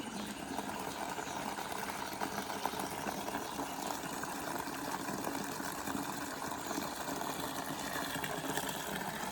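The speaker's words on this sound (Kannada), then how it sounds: "ನೀರು ತುಂಬ್ತಾ ಇದೆ ಸರ್ಫ್ ವಾಟರು" Steady rushing of detergent water pouring into a container, a continuous broadband hiss with a low mechanical hum underneath, no voices.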